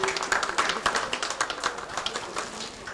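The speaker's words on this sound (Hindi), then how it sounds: "आप सभी तालियों से इनका स्वागत कर सके।" Community hall audience clapping to welcome a woman receiving a sari, a steady patter of many hands at moderate distance with a faint voice mixed in.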